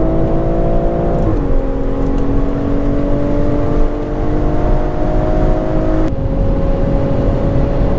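A BMW M340 with its top-speed limiter removed by an MHD tune accelerates hard, its engine drone holding loud and steady while rising slowly in pitch, with a gear change part way through and constant road and wind roar.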